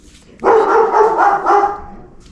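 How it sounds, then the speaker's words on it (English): A dog gives one loud, drawn-out bark close by, trailing off into a short whine before quiet returns. "That's my dog, sorry."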